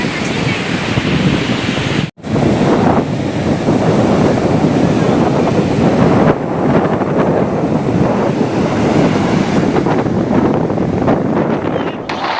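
Sea waves break on the beach at Puri, a continuous loud roar of surf heavily mixed with blustery wind buffeting the microphone.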